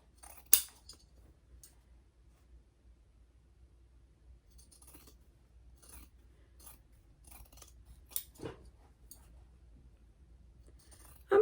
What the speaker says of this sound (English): I'm cutting about 1/4 of an inch from the seam